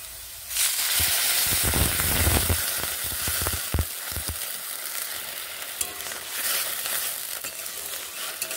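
Potatoes for aloo posto fry in a pan as water is added, setting off a loud, sustained sizzle and hiss with stirring scrapes and clunks early on, then settling into a steady bubbling sizzle with no voices.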